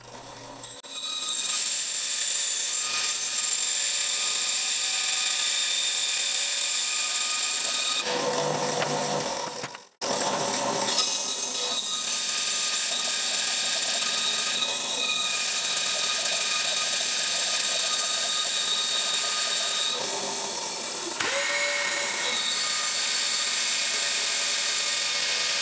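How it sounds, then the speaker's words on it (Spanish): A power saw cuts through a piece of recycled wood being shaped into a hammer handle, a loud steady whine running for about twenty-five seconds with one brief break near the middle. "Ahora vamos a cortar el trozo que nos interesa."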